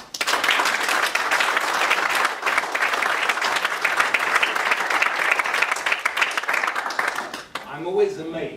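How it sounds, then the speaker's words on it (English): Loud, sustained applause from a crowd at an event, many hands clapping densely and steadily for several seconds before cutting off, followed by a brief voice. "I'm going to ask you to put your hands together for Marc and me."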